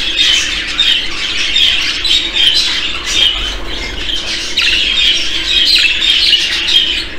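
Budgerigars squawk and chirp continuously in a busy, close chorus of overlapping calls, some birds molting and young ones among them, with no talking.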